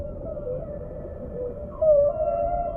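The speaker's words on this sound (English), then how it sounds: "Sometimes whales use their own sonar, making sounds which can travel many miles" Whale vocalization underwater: a low, drawn-out moan under a steady deep-sea rumble, rising into a louder tonal call near the end, with no other voices.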